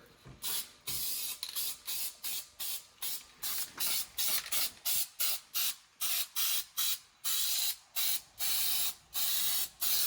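Aerosol spray can laying down coats inside the interior of a 1968 Ford Thunderbird, a steady rhythm of some two dozen short hissing bursts separated by brief pauses, close and clear with no talking.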